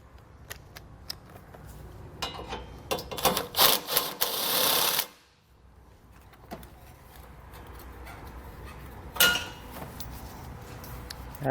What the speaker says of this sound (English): So I'll take a 13mm socket and get these removed.